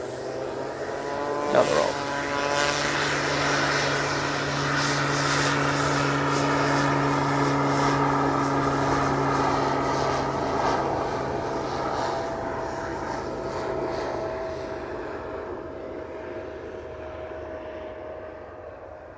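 A Pilatus PC-12 turboprop departing an airport drones with a steady propeller hum and sustained tones that fade toward the end, while someone speaks briefly over it.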